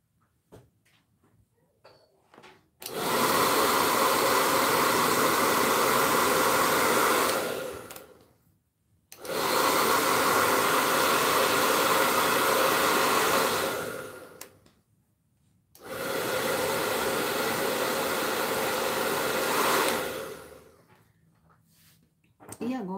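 A hair dryer blows close and steady over the wet orange background paint of a rustic Easter plaque, running in three long bursts of about six seconds with short pauses in between.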